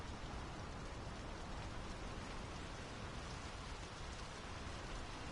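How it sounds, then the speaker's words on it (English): Steady rain falling outdoors in the Draugen video game, a dense continuous hiss that stays even and fairly soft throughout with no voices. "The rain's picking up."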